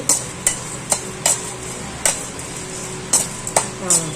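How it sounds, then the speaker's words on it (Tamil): Ingredients roasting in a pan are stirred with a utensil that strikes the metal in sharp, irregular knocks and scrapes over a faint steady sizzle, close by, with no one talking. "நல்லா வறுத்துக்கோங்க. இது ப்ரௌன் ஆயிடுச்சு."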